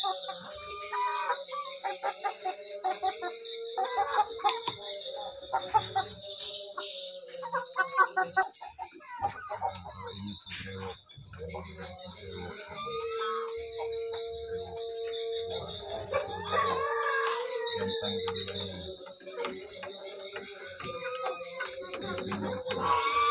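Shamo chickens, two hens and two roosters, cluck and murmur close by over a steady chorus of insects, with occasional sharper calls scattered through the stretch.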